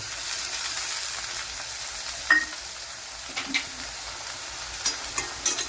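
Ginger, garlic and salt paste sizzling in hot oil with fried onions for Bengali egg curry, a steady close sizzle with a few soft stirring scrapes and clinks of a utensil against the pan.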